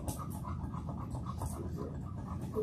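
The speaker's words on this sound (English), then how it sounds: "ignore the dog that's just yipping" A dog yips and pants steadily at an outdoor animal blessing service, the sound continuous and fairly close with no clear speech over it.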